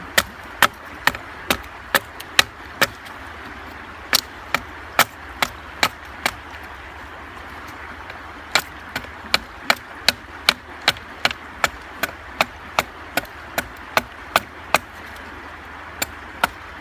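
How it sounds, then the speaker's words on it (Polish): Repeated sharp blows of a Hultafors Classic Hunter axe splitting wood, a steady series of about thirty crisp chops with short pauses, close and loud against a quiet background. "teraz popracujmy tą siekierą troszkę bardziej precyzyjnie"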